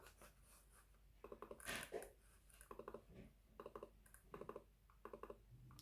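Keys tapped on a computer keyboard in short bursts of quick clicks separated by pauses, close but soft, with a brief rustle near the start.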